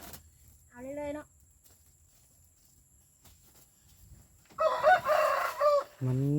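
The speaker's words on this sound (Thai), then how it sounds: "มันหมักขันเนาะ" A rooster lets out one loud, nearby crow lasting about a second near the end, after a shorter bird call early on, and a brief vocal sound follows right after the crow in a quiet outdoor setting.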